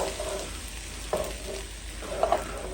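Diced tomatoes from a can stirred into wilted, sizzling onions and peppers in a pan over lowered heat: a soft, steady frying hiss with a few scraping clatters of the spoon, fairly quiet and close.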